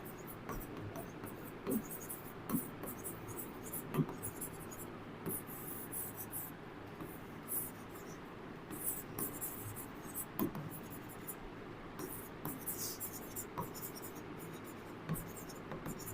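A pen scratching on paper or a board during a chemistry class lecture: faint, steady scribbling strokes that run continuously with small accents, over a quiet room.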